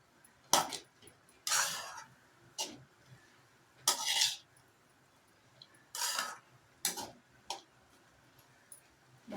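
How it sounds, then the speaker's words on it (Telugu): Intermittent scraping and clinking of a utensil stirring flattened rice (poha) into a tempering in a pan, several short bursts separated by quiet pauses, close by. "పోపు అటుకులు అన్నీ కలిసేలాగా ఇలా కలిపెట్టుకోండి"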